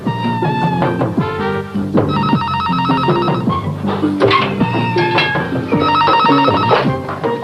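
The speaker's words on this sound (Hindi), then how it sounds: "टेलीफोन किसका आ गया?" Telephone bell ringing in repeated bursts indoors during a classic PTV drama scene, loud and close over background music, with no speech over the rings.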